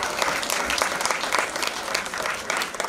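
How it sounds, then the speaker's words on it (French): Audience at a certificate ceremony applauds the ladies, a steady, close burst of many hands clapping with scattered sharper claps, loud and unbroken. "applaudit encore une fois pour ces dames"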